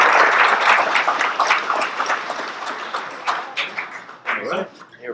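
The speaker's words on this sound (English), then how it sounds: "Hey, a big round of applause." An audience at a police swearing-in ceremony claps, a burst of applause that starts full and thins into scattered claps over a few seconds, with voices talking over it.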